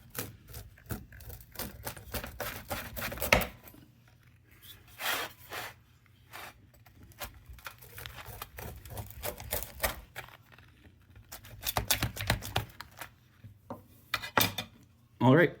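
A PC wood-fired four cheese frozen pizza being cut, with rapid crunchy cracks and rasping strokes through the crispy crust, bursts of close clattering against a plate, and pauses between cuts.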